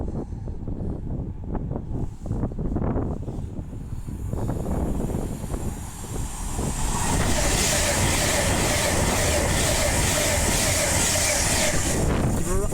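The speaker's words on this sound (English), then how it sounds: "the next train to be coming through will be a Class 390 Pendolino running from Liverpool Lime Street to London" A Class 390 Pendolino electric train on the West Coast Main Line at Acton Bridge, running from Liverpool Lime Street to London Euston, roaring past with a steady rush and rattle over several seconds, preceded by talk and wind buffeting.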